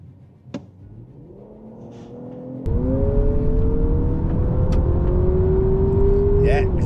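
A 2024 Toyota Camry TRD V6 accelerates hard in a drag race, its engine note climbing steadily through the revs from a launch, loud and close, with a voice talking over it.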